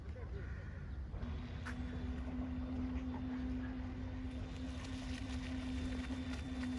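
A Tigr PRO remote-controlled fishing bait boat's electric motor whines with a steady high hum over water, starting after a moment and running continuously at a distance.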